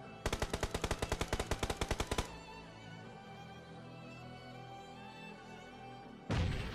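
Rapid automatic gunfire in a battle royale mobile game, a fast burst of about twenty evenly spaced loud shots, followed by quieter game ambience and another loud shot or blast at the end.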